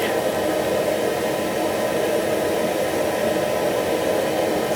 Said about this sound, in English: So now we're going to chuck it up in the lathe